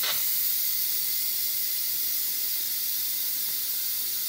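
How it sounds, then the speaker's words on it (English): A Pampered Chef Quick Cooker venting its steam pressure, a loud, steady, close hiss that starts abruptly and continues unbroken. "This is depressurizing it so that we can open it safely."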